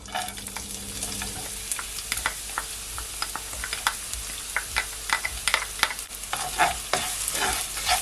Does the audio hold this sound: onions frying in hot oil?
yes